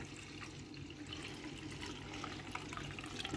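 Warmed goat milk for feta is poured from a pot into an insulated container, a steady low splashing trickle of liquid that runs continuously, fairly faint and close, with no voices.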